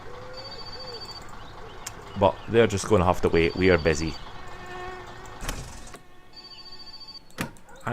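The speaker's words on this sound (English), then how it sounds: "I can hear the phone ringing." A telephone rings in short repeated bursts in the video game My Summer Car, against steady background hum, with people talking over part of it.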